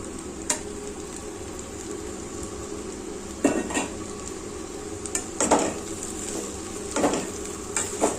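Eggs frying in a pan in a spicy egg and amaranth-leaf curry made with country-chicken eggs, with a steady low sizzle and several sharp scrapes and clinks as a utensil stirs against the pan.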